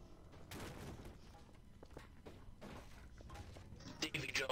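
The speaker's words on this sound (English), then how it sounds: "Just turn the ship and we'll fire our cannons." Ship cannons fire in a Garry's Mod pirate ship battle, a series of booming blasts and rattling volleys spread across the scene, growing louder and denser toward the end, with players talking over the gunfire.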